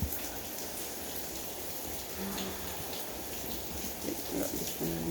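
Rain falls steadily outdoors during a lunch, a soft continuous hiss of drops at low level throughout with faint clinks near the end.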